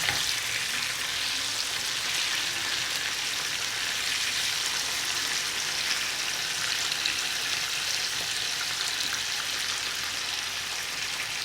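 Continuous loud sizzling of chicken thighs frying in a hot pan, a dense crackling hiss that holds steady throughout with no voices.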